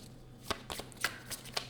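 An animal oracle card deck being shuffled by hand, a few quick, soft riffling bursts up close in a quiet room.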